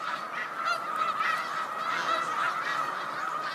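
A flock of snow geese on land by Cayuga Lake honk continuously, many overlapping nasal calls forming a dense, busy chorus at moderate distance.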